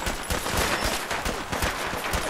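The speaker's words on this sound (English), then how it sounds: "This person is hitting me with their fire." Rapid gunfire in the video game Fallout 4 striking the player, a dense, loud burst of shots in quick succession with no talk.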